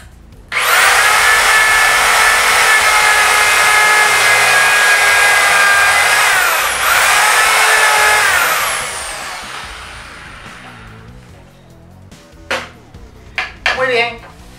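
A power drill bores the third dowel hole into a wooden board with a JointCrafter doweling jig, a loud steady whine for about eight seconds that winds down, followed by a few short clatters.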